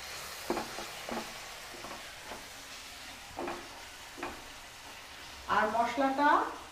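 Chopped tomato with garlic and green chilli paste sizzling in a pan for prawn dopiaza: a faint, steady sizzle with light stirring taps, and a voice rises briefly near the end.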